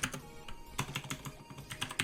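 Rapid typing on a computer keyboard while entering a command, a quick run of distinct key clicks at an uneven rhythm, close and fairly quiet, with no talking.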